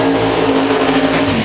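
A turbocharged Chevy-powered drag race car launches hard at a Florida drag strip, its tires spinning, a loud continuous engine roar that fills the whole brief moment.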